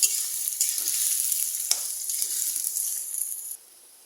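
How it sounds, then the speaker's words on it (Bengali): Chopped onions fry in oil in a pan, giving a steady, close, high-pitched sizzle with occasional stirring clicks before it quiets near the end. "এখন এগুলোকে ভালো করে ভাজতে হবে। পেঁয়াজগুলোকে"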